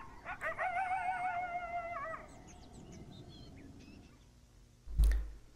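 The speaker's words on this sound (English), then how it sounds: "avoid coyote howls" A recorded coyote howls, a wavering, rising tonal cry with a raspy edge that lasts about two seconds, followed by faint yips and quiet room noise, then a sudden dull thump.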